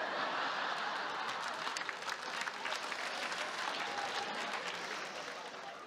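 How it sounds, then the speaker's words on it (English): A comedy club audience breaks into steady applause, a dense wash of many hands clapping at moderate distance that holds throughout and tapers slightly at the end. "I earned those claps."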